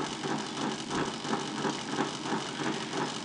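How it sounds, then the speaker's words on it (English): A Bedini bicycle wheel motor with coat hanger core coils runs on its own with a continuous whirring hum that pulses in a fast, regular rhythm. "now I have the bicycle wheel running"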